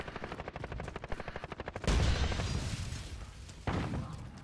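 Shotgun blasts and heavy gunfire in Call of Duty Modern Warfare: a rapid rhythmic burst of shots, then two loud booming shotgun blasts with long decaying tails, close and loud with no talk.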